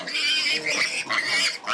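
Pigs on a pig farm grunt and squeal loudly and close, in a steady overlapping chorus with brief dips, and no voices are heard.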